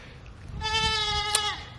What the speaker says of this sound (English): young goat hung in the fence